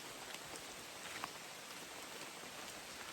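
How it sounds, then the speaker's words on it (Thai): Heavy rain pours down in a rainforest during a storm, a dense, even hiss of drops with no break and no voices, steady from start to finish. "ฝนตกเริ่มหนักแล้ว"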